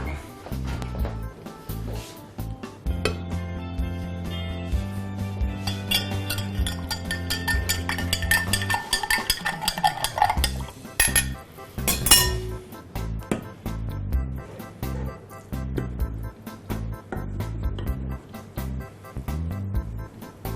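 Ceramic and glass clinks ring out as a plate is set down and handled in a kitchen, with bright chimes and a few taps over a background of music.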